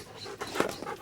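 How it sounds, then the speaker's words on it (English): Several dogs chewing and snuffling while eating garden tomatoes, a close, short burst of wet mouth noises and panting with a brief louder crunch in the middle. "And 3 tomato-eating dogs."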